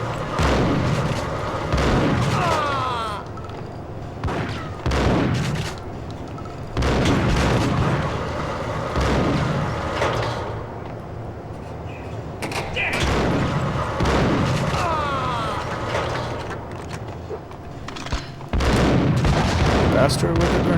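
Grenade explosions in the Max Payne video game: repeated heavy booming blasts every few seconds over a dense, continuous bed of gunfire and battle noise, loud and close throughout.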